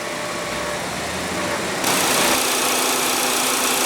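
A 2015 Volkswagen Passat with a 1.8-liter turbocharged inline four-cylinder idles with a steady, close hum. Partway through, a broad hiss rises and the engine noise gets louder and holds there.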